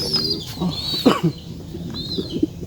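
Pigeons cooing softly nearby, a few low throaty calls over a faint background with brief higher chirps.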